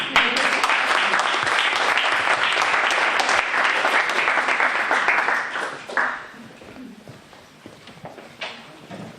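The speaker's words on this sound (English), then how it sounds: "Big applause." Loud applause from a symposium audience, sustained clapping that gradually fades out toward the end with a few scattered claps.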